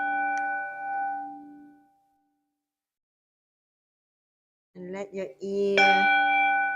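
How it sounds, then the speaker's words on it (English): Meditation bell struck once, its long ringing tone with steady overtones fading slowly into silence over about two seconds, followed by a soft-spoken voice and then another bright bell strike ringing under the talk. "ears follow the sound of the bell."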